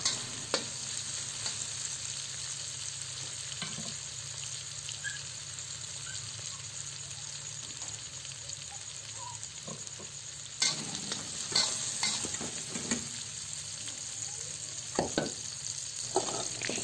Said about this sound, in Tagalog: Lutuin lang natin ang kamatis hanggang sa lumambot na ito.